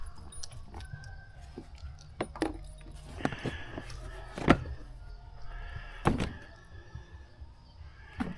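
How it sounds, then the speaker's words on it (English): Keys jangle up close in several short bursts among thunks and handling noises, with quiet gaps between, during preparations for an afternoon ATV ride on the Lake Huron coast. "I need to carry my keys with me."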